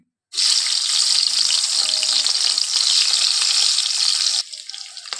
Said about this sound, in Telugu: ఆయిల్ హీట్ అయింది ఇప్పుడు ఆనియన్స్ వేస్తున్నాను